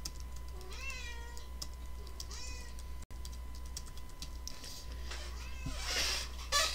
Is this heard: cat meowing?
yes